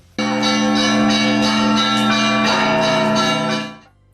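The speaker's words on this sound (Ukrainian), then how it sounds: "В рибниці про народження Спасителя сповістили десятки дзвонів." Loud church bells, dozens of them including one weighing 100 pud, ring out in a full clanging Christmas peal, their overlapping tones sustained and resonant before fading away.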